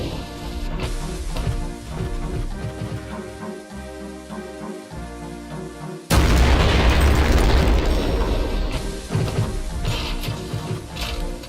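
Game explosions from TNT in the Guncaster Doom mod, where a heavy boom erupts around the six-second mark and rolls on loudly over a steady layer of game music and effects.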